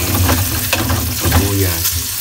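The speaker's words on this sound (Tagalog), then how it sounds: "Ang ilalagay ko po ay dilis." Dilis (small anchovies) fry in a pan with a loud, dense crackling sizzle, close by, and a few utensil scrapes cut through it.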